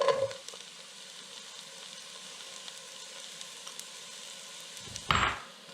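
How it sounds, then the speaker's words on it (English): Vegetables with carrot sautéing for Scottish tattie soup, a steady, moderate sizzle running throughout, with a louder burst of stirring near the end. "And we're going to saute this for about 5 minutes until the veggies are softened."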